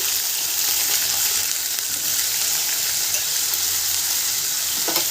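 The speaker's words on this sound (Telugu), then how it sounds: "ఎండు మెత్తళ్ళు ఎండ్రాయిలు కూడా వేయించుకుందాం వేస్తున్నాను" Dried fish and dried prawns frying in hot oil, a steady loud sizzle running without a break through the whole stretch, with a faint clink near the end.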